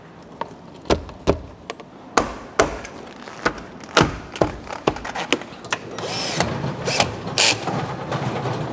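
Sharp tool clicks and short mechanical bursts from driving screws back into the interior of an old Kia Capital during restoration, a few bursts spaced irregularly, with a denser rattling whir near the end.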